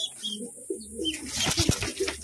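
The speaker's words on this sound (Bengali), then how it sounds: "পায়রাগুলো খাবার দাবার খেয়ে তার বাচ্চাগুলোকে খাবার খাওয়াচ্ছে" Pigeons feeding their chicks coo in low, rounded calls close by, a few repeated throaty notes with soft rustling and faint chirps around them.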